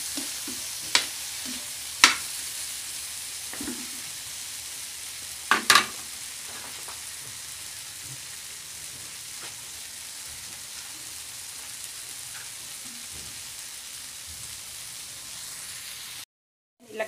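Smoked fish (tinapa) fries in a pan with a steady, rain-like sizzle, broken by a few sharp clatters of stirring, then stops abruptly near the end.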